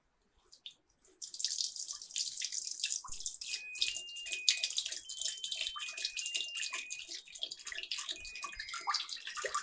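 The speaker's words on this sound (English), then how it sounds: "When I pour this entire amount of water over this turbine, it starts rotating." Water poured over a small turbine in a classroom science demonstration, a steady splashing and trickling stream with drips, running continuously for several seconds after a brief quiet start.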